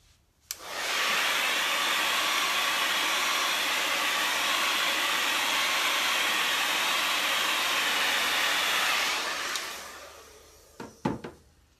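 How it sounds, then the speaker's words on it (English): A handheld blow dryer dries green paint on a coconut palm tree painting, switching on with a click and blowing a loud, steady, close rushing whoosh for about nine seconds before winding down and ending with a few handling clicks. "So that quick, with a blow dryer, I can, just dry that off."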